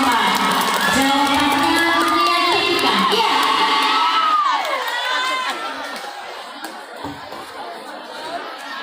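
Audience at a school student council (OSIM 2026) candidate debate applauds and cheers for candidate pair 04, a loud crowd of children shouting and whooping over clapping that fades toward the end.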